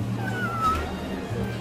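A cat gives a short, rising-and-falling meow, fairly close, amid a low background hum and light voices in the room.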